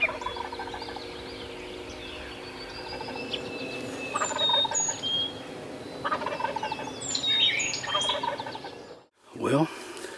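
A wild turkey gobbles repeatedly in spring woods near a hunting blind, several distinct rattling calls at moderate distance, with a soft rustle near the end.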